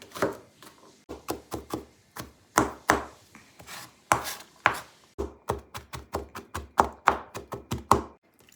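Knife chopping onion, ginger and garlic finely on a board, a close, steady run of crisp taps in quick bursts with brief pauses between, alone without talk.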